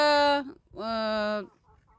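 A black hen gives two loud, close, drawn-out clucking calls separated by a short pause, followed by faint quieter sounds.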